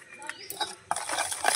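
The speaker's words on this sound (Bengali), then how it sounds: "দুধটা দিয়েও ভালো করে নাড়িয়ে নেব।" A spoon stirs milk into thick cake batter in a bowl, giving a few soft scraping clinks against the side, closer and busier in the second half, with no voices.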